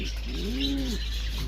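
A breeding racing pigeon gives a single soft, rising-and-falling coo, close by, over a steady low hum.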